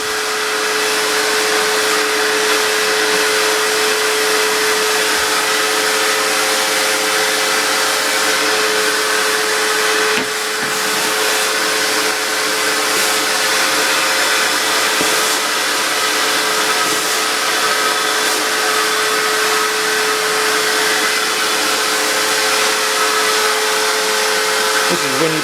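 An Einhell wet and dry vacuum cleaner runs continuously with a loud, steady whirring roar and a constant motor hum, close by, shifting slightly as it moves.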